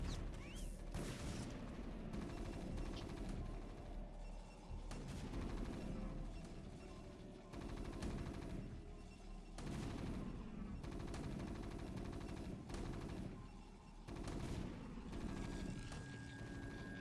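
StarCraft II skirmish of Protoss probes swarming a Terran siege tank: dense, continuous game combat clatter with repeated rapid gunfire-like bursts and booming impacts, loud and steady throughout with no voices.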